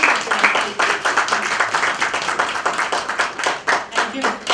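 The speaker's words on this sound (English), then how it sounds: "You're getting the loudest claps" An audience at a literature festival session claps steadily throughout, dense, close applause with some voices mixed in underneath.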